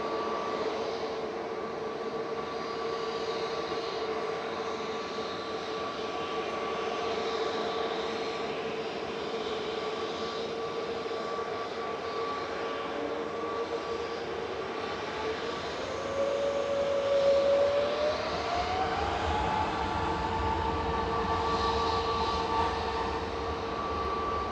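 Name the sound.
Virgin Atlantic Airbus A350-1000 touching down at Manchester Airport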